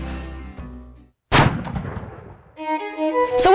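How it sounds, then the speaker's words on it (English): A single loud, close shot from a big hunting rifle cracks out and decays, with tonal background sounds before and after it. "I heard a big gun go off"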